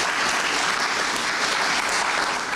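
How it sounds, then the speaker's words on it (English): A round of applause from an audience at a Botswana football event, dense, even clapping throughout, moderately loud with no voices standing out. "He deserves a round of applause for that."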